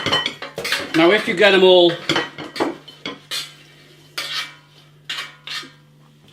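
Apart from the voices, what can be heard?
Hula Hoops potato snacks being put on a plate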